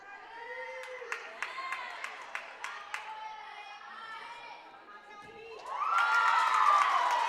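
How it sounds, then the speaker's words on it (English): Crowd noise in a gymnastics gym during a junior varsity bar routine: steady chatter with sharp claps and shouts early on, then a louder burst of cheering swelling near the end, with voices throughout. "Hear that crowd noise from the bar routine."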